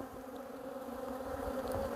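Honeybees buzz in a dense, steady drone while being handled from a struggling hive, close and continuous with no voices.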